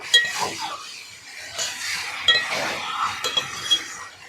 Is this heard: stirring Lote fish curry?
yes